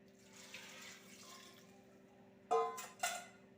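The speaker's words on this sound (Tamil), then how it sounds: "இப்போ இதுக்கு தேவையான தண்ணி சேர்த்துடலாம்" Water splashes into a cooking pot of mutton curry with onions in two short bursts near the end, after a quiet stretch with low background hum.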